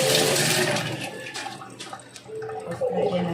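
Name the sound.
washing hands under running water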